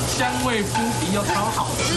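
Food sizzles on a hot plate with a steady, close, dense hiss that runs the full two seconds while a voice talks over it.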